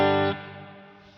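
A clean electric guitar chord rings through spring reverb with a little pre-delay, sounding full for about a third of a second before dropping away into a quieter, shimmering reverb tail. No voices.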